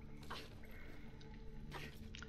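Water drips from Lara after she climbs out of the water in the video game Tomb Raider Anniversary, soft squishy droplets and splashes in a few irregular bursts over a quiet ambient hum.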